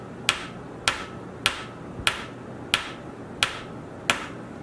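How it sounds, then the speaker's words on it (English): A hammer lightly tapping a 3D-printed plastic part into place: seven sharp, evenly spaced taps roughly every 0.6 seconds, crisp and close against a low background. "you take Mr. Hammer and you just lightly tap it in."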